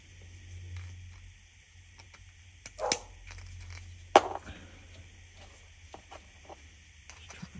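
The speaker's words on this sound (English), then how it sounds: "might have just heard my dog barking" A dog barks a couple of times from somewhere away in a home garage workshop, short sharp yelps standing out over a low steady hum and faint tool noise.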